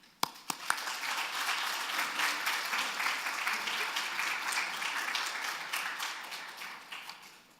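A church congregation at an Easter revival gathering in Sydney claps to welcome a pastor, a few sharp early claps swelling into sustained, even applause that tapers off near the end.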